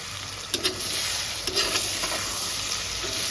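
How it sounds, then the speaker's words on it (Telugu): Egg and vegetables fry in a pan for vegetable egg fried rice, giving a steady, close sizzle, with a few soft scrapes of stirring on top. "చూడండి ఎగ్ ఫ్రై అయింది"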